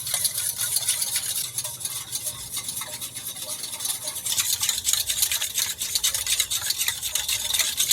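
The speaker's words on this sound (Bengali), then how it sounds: "দিয়ে ভালো করে চিনিটাকে গুলিয়ে নেব দুধের সঙ্গে" A spoon stirs sugar into milk, a steady, soft scraping and swirling in a bowl, close and continuous with no voices.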